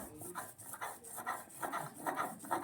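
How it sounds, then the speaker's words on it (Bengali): Fried spices are ground into paste on a grinding stone with a soft, steady rhythmic rasping and rubbing, each stroke repeating about every half second, quiet and close with no talk. "খুব সুন্দরভাবে বেটে নিচ্ছি।"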